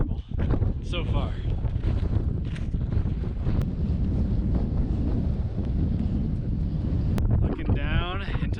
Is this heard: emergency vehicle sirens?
no